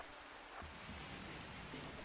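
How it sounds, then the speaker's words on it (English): Rain falls in a video game as a steady, dense hiss with soft patter, continuous and even for the whole stretch, with no voices. "So, while it's raining"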